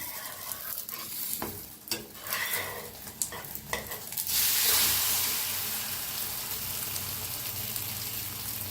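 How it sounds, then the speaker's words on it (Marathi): An egg flatbread drops into hot oil, with a burst of stirring and scraping clicks first, then a loud, even sizzle that swells and holds steady. "मस्त तेलात दोन्ही हाताने सोडायचे. वरनं तेल फिरवून घेऊया."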